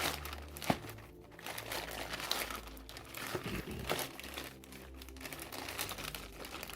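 Plastic packaging around a 2.4G wireless gamepad crinkles and rustles as scissors cut it open, a close, continuous crackling with a sharper snip or two.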